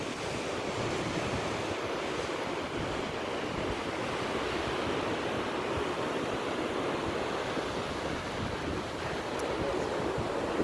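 Waves break on Kovalam Beach in Kerala, a continuous rushing roar of surf mixed with wind noise, steady and close throughout.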